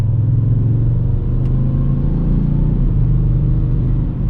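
A 2020 Audi S6 TDI pulls hard in 4th gear, its diesel engine giving a loud, steady low rumble from inside the cabin as it accelerates continuously, with no talking.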